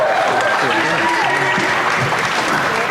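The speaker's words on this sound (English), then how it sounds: "give a big round of applause" A crowd at a boxing press conference after the Mayweather–McGregor fight claps loudly and continuously, with a murmur of voices and some cheering mixed into the sustained applause.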